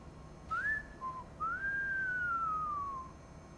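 Whistling in the video game Cyberpunk 2077: a short rising whistled note, a brief low blip, then a long clear tone that slowly glides downward, heard alone over a faint background hum.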